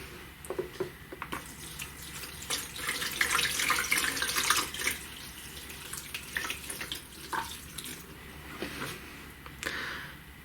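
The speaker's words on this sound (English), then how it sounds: "using most of a gallon of heavily dechlorinated tap water" Dechlorinated tap water, most of a gallon, pours into a tarantula enclosure over coconut substrate, giving a quiet, continuous splashing trickle with uneven gurgles, close and alone.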